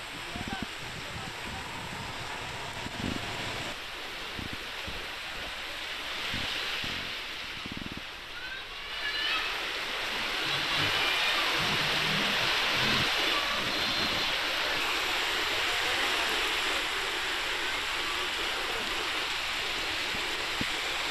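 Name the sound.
heavy rain during thunderstorm in Hyderabad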